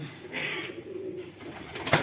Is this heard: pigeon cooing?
yes